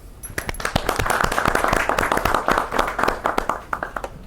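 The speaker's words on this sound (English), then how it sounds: "Can I have a round of applause, please?" An audience at a UK tech meetup hosted at GSMA Innovation Foundry claps in a round of applause, with distinct individual claps building into a moderately dense, fairly close patter that thins toward the end.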